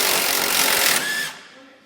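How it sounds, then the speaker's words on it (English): A wrench and socket work the tie rod end nut off the spindle of a Club Car Precedent golf cart, a close, dense ratcheting rasp that runs steadily, then cuts out with a short ringing tail. "using a 17 and 18 millimeter wrench and socket, remove the nut that's holding the tie rod end to the spindle"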